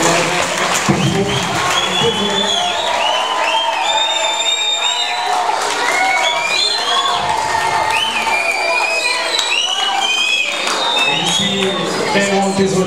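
Sustained applause and cheering from a school audience after a student theatre performance, a dense crowd clapping with scattered shouts and whoops, steady and loud throughout.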